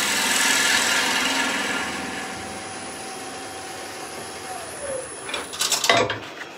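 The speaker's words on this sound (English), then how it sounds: "we've got a lovely clean cut going on there because we've got the bowl gouge working nicely" A bowl gouge cuts a scrap wood bowl spinning on a lathe, a steady loud hiss and whir of the cut that fades, then a brief rougher scraping burst near the end, with no speech.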